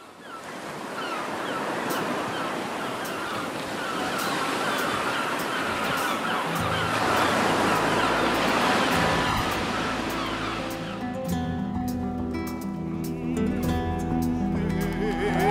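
Steady ocean surf and wind wash around a boat out at sea, a broad roaring hiss that is joined midway by swelling music.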